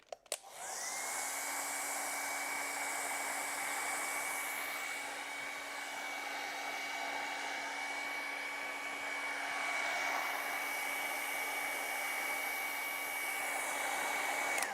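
A hair dryer blows on wet acrylic paint for nearly fifteen seconds, a steady close whoosh with a constant motor whine that starts abruptly and holds even throughout, with no talking.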